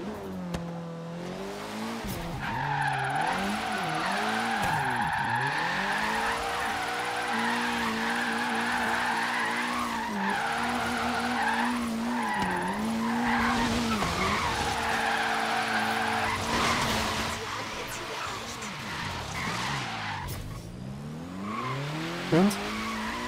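Long, wavering tire squeal from a Ken Block Hoonigan Subaru WRX doing a burnout in the racing game Forza Horizon 3, with the engine revving up and down beneath it, loud and continuous for over twenty seconds.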